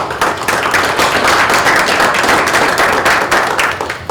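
A dense round of applause from a crowd at a township trustee meeting, steady and loud for several seconds before tapering slightly at the end.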